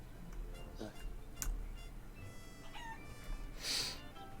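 A chicken in the Wallace & Gromit's Grand Adventures video game clucks and squawks in a few short bursts, with a louder shrill call near the end, over quiet game background.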